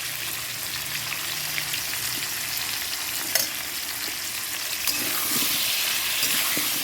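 Fish frying in a pan with turmeric, a steady hissing sizzle with scattered pops and a brief clink, growing slightly louder near the end, close by with no voices.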